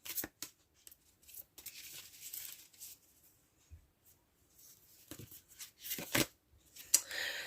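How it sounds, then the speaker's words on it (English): Soft papery riffling and light flicks of tarot cards being shuffled, intermittent bursts with quiet gaps, close and fairly faint. "So you're going to hear shuffling"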